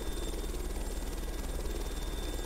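Sud-Ouest Djinn helicopter engine in a flight simulator game, a steady buzzing turbine and rotor drone with a constant high whine, continuous and unchanging.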